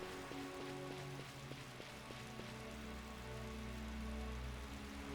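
Rain in the video game Final Fantasy XII, a faint, steady hiss of falling rain over quiet game music with soft tonal notes, oddly synthetic and even throughout.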